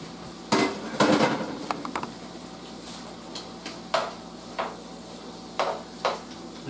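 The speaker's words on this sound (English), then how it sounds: "To the white beans, I am now going to add the shrimp." Shrimp are tipped into a pan of white beans, with a clatter of utensil against cookware and then scattered lighter knocks and scrapes close by.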